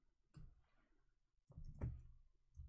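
Computer keyboard typing in short bursts of clicks, a couple of distinct clusters separated by quieter gaps, fairly close.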